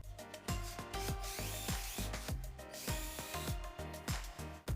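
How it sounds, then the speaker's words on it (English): Power drill boring two holes in a case part, with a repeated whirring tool sound and sharp bursts as the bit starts and stops, close and fairly loud with no talking. "take the second one and drill 2 holes in it"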